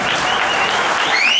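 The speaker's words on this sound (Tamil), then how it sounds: "நல்ல பார்வையாளர்கள் கொஞ்சம் பேர் இருந்தால் நல்லா கைத்தட்டி உற்சாகப்படுத்தணும்." Dense, steady clapping from an audience at a bodybuilding competition fills the room, a close, continuous patter of many hands with faint crowd murmur underneath.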